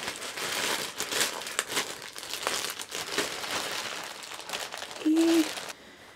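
A wrapped gift package holding a cosplay piece is torn open, with loose crinkling and rustling of paper throughout, a few sharper rips, and a louder burst of crumpling just before the sound drops away.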